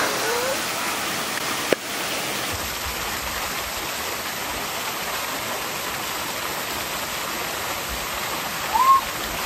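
Steady, full rushing of a freshwater stream or waterfall, a constant broadband roar close by with one sharp knock early on and a brief faint voice near the end.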